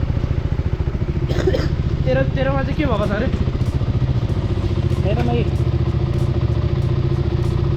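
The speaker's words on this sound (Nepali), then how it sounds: "टिक टिक टिक टिक टिक टिक टिक टिक साउन्ड" A KTM motorcycle engine idles with a fast, regular ticking fault, the even pulses running steadily and close by while someone talks over them.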